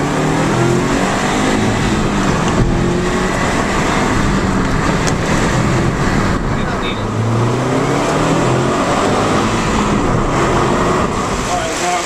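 A Subaru STI with a newly installed boost gauge drives along, its engine and road noise forming a loud continuous roar with rising and falling revs, no talk heard over it.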